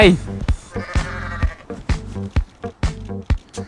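A goat in the Goat Simulator video game lets out a loud, wavering bleat at the start, followed by a series of sharp, rhythmic thumps and game noises.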